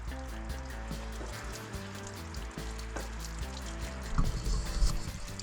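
Water and loosened debris flush out of an RV water heater in a steady pouring stream that swells into a louder gushing burst near the end, heard close and without talk.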